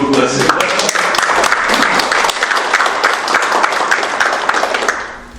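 An audience at a county event gives the county governor a loud, sustained round of applause that fills the room and tapers off toward the end.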